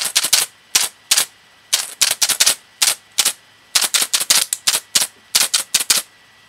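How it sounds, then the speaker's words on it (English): Loose keyboard keycaps rattle and clatter in quick bursts, sharp clicky shakes coming in irregular groups, close and loud with short pauses between. "the keyboard thingies. Makes a fun noise."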